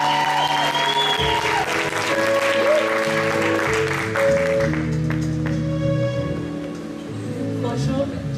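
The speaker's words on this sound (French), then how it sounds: "La sœur Muriel, sous vos acclamations." Audience applause at a church gathering as a speaker is welcomed, steady clapping under a sustained tonal musical background, moderately loud throughout.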